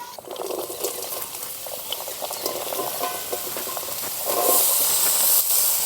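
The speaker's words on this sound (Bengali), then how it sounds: "এবার দিয়ে দেব লাউ।" Chopped bottle gourd dropped into a pan of hot spiced masala for a prawn curry, giving a steady close hiss and sizzle that swells louder toward the end, with no voices.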